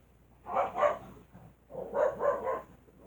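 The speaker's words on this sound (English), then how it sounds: "sorry about the dog." A dog gives a few muffled barks in two short clusters, somewhat distant, with quiet pauses between.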